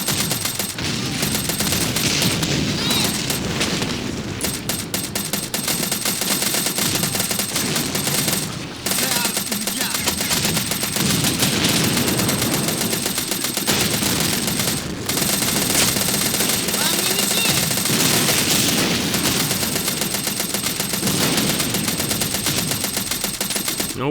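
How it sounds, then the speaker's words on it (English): Machine gun fire in the World War II strategy game Men of War: Red Tide: dense, continuous bursts of automatic fire with scattered sharp reports and a battle din, loud and sustained throughout. "So I'm going to switch my focus onto that machine gun right there"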